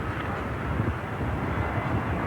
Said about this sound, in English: The aircraft speeds downwards.